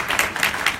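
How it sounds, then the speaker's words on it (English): A plenary session audience on ending mass incarceration gives a speaker a quick hand: a brief, close burst of claps in a loose, regular patter lasting under a second. "Give Johnny a hand clap."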